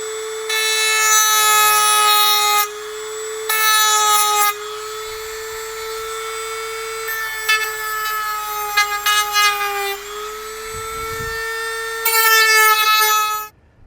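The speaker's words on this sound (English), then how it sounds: "I'm going to just grind down the edges of these staples" A rotary grinder whines steadily as it grinds down the ends of plastic-weld staples on old Suzuki GS750 motorcycle parts, with the pitch dipping and rising under load and brief pauses in between. It is close and loud, with no talking.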